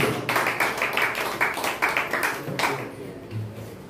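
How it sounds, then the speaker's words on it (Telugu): Worshippers at a Sunday church service clap together in a steady rhythm of sharp, roomy claps for about three seconds before the clapping fades out. "చప్పట్లు కొడుతూ"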